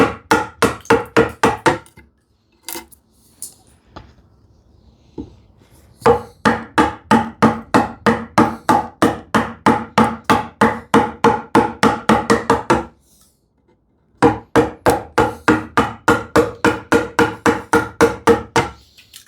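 Sharp, rhythmic chisel strikes cut into wood during hand-tool work on a TV unit, coming in rapid close bursts of dozens of knocks separated by short pauses.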